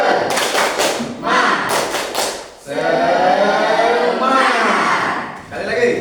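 Group spirit clap at a university teacher-training session: bursts of sharp, rhythmic hand claps from a crowd in a room, broken by short pauses and followed by a sustained cheering shout.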